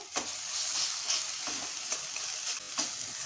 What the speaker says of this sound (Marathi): आलं लसणाची पेस्ट छान अशी परतून घेऊया